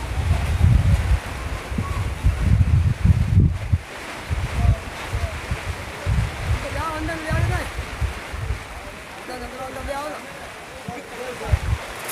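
Strong gusting wind buffets the microphone at the Ghazipur border protest site, a rough rumbling roar rising and falling in bursts, with faint voices and other sounds in the background.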